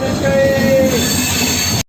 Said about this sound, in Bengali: এটা হলো দুরন্ত এক্সপ্রেস দেখতে পাচ্ছ সে দুরন্ত এক্সপ্রেস কিন্তু ক্রসিং করছে আমাদের এই ধলি এক্সপ্রেসের সঙ্গে